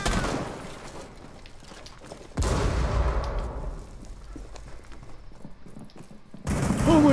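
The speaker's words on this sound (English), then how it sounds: "Oh, they're shooting me." Gunfire in a multiplayer video game as enemies shoot at the player, loud cracking shots and bursts arriving in clusters, with sharp onsets at the start, midway and near the end.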